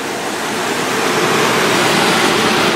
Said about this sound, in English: Of course, you got your air conditioner in here.